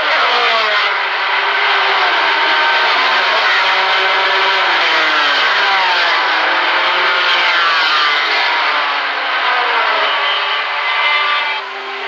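Race cars pulling away at the start of the 1976 Le Mans 24 Hours, among them Porsches, Lolas, Mirages and a BMW 3.0 CSL: a loud, sustained chorus of engines revving and climbing through gears, layered and continuous.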